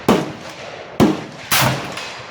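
Three loud, sharp gunshots from a VEPR AK-pattern battle rifle chambered in 7.62x54r with a 16-inch barrel, fired outdoors at uneven intervals, each with a short echoing tail.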